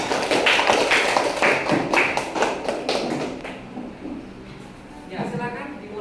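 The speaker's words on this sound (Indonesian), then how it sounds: "Jadi tepuk tangan dulu untuk kelompok yang sudah mau presentasi awal." Classroom of students applauding a presenting group, a dense burst of clapping from many hands that is loud at first and then thins and fades, with a voice speaking as it dies away.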